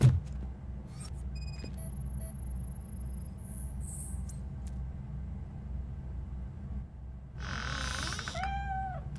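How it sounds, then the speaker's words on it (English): A cat meows in the video game RoboCop: Rogue City over a low game ambience with a steady hum. Brief electronic tones come early, then a single clear drawn-out meow sounds near the end. "The cat is fine."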